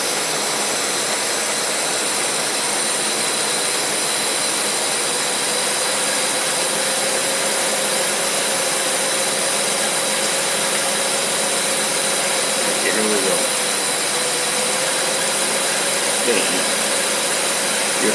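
A car engine fitted with a Holley teapot carburetor held at a steady high idle, a continuous loud mechanical drone with a faint rise and dip in pitch partway through, running alone without talk.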